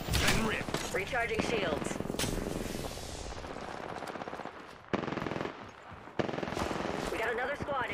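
Automatic gunfire in the video game Apex Legends crackles in rapid bursts, with a few brief pauses between them. A voice callout is heard over the shooting.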